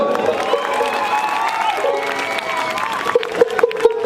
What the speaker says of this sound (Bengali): চিত্তবাবু এবং প্রদীপ বাবুর জন্য একবার জোরদার হাততালি